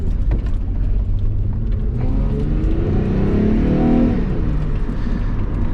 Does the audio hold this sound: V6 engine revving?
yes